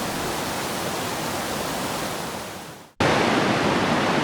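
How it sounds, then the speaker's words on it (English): A river in Rocky Mountain National Park rushes steadily in a dense, close hiss of flowing water, cutting off briefly near the end before resuming at full strength. "There is something peaceful about sitting by the river, listening to the sounds of nature,"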